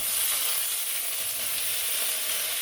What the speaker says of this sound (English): So I'm just going to chuck this in, get ready for a little bit of a sizzle.